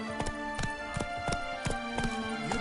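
Roach the horse galloping in The Witcher 3, a regular rhythm of about eight loud, close hoofbeats over a steady ambient tone.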